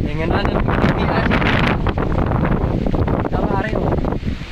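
Strong wind buffets the microphone in a loud, continuous roar, with voices talking underneath throughout.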